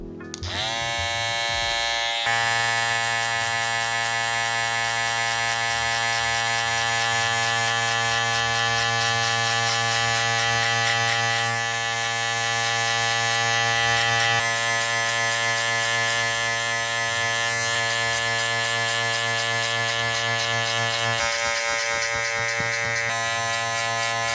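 A Babyliss X Tomb45 hair clipper running at its highest speed, a loud steady electric buzz with a sharp start, holding an even droning hum close up for the whole stretch.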